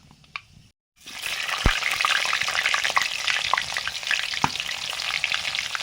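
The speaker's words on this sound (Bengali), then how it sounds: "সর্ষের তেল দিয়েছি, তেল গরম হয়ে গেছে, 5 ফোড়ন দিলাম।" Bengali five-spice seeds crackle in hot mustard oil, a sudden loud sizzle bursting in after a brief silence and then holding as a dense, close spitting fry with sharp pops.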